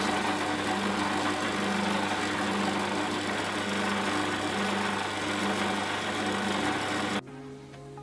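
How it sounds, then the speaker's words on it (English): A power drill whines steadily for several seconds, close up, drilling holes in a project box, then abruptly stops. "Now we need to drill holes to accompany these."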